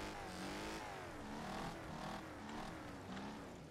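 Several cars race in Wreckfest, with engines revving and accelerating in repeated rising surges, a loud continuous racing roar with no voices.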